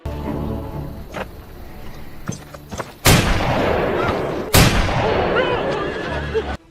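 Two sharp, loud gunshots from a Western film ring out a second and a half apart, each with a long reverberant tail, over a dense background of music, movement and sound effects.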